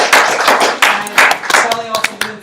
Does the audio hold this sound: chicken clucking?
no